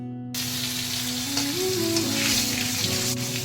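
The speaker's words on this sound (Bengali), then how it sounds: "প্রথমে আমি কড়াইতে দিয়েছি সাদা তেল, তার সঙ্গে একটুখানি দিয়ে দিলাম আমি মাখন" Butter melting into hot white oil in a wok sets off a steady close sizzle that starts abruptly and continues evenly, with a faint tonal hum wavering beneath it.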